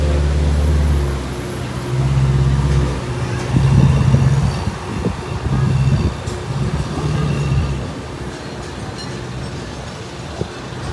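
A Ferrari 488 passes along a São Paulo street, its engine rising in a few loud throaty surges before fading away, with no talk over it.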